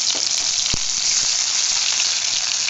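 Ginger garlic paste frying in hot oil for chilli paneer gravy, a steady loud sizzle and crackle with one brief thump of the pan or spoon near the start.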